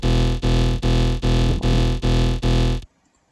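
Amber wavetable synth for briddim dubstep, modulated by a retriggered LFO: seven rapid, evenly spaced chunky pulses of gritty, distorted bass tone, each sharply gated, loud and upfront, ending abruptly.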